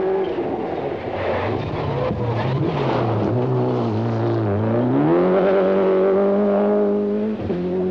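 Group A rally car on the 1993 Thousand Lakes Rally in Finland, a loud close engine revving hard with rising and falling pitch through gear changes, sustained and continuous with no talking.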